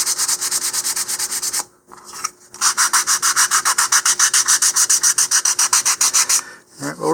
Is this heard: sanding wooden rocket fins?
yes